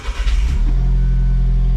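Alfa Romeo 4C engine cranking and catching, with a short burst of starter noise settling into a loud, steady mid-range idle hum, close and alone.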